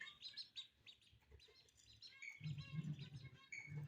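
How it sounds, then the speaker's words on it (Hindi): Myna birds chirping and twittering in quick bright calls, near and overlapping, with a low rumbling background noise swelling partway through. "ये देखिए ऐना मैना आ रही हैं, अभी ये पानी पिएंगी।"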